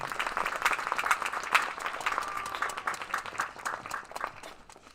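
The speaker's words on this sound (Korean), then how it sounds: "여러분 그 박수로 목사님 맞이하겠습니다" Warm, dense applause from a congregation welcoming a pastor at a Christian school's campus relocation thanksgiving service, steady and fairly close before tapering off toward the end.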